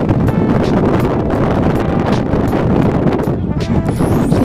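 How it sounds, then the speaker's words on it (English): Strong wind buffets the microphone in a loud, continuous roaring rush with gusty fluctuations, filling the whole stretch on an exposed hilltop in a park. "Literally so windy up here"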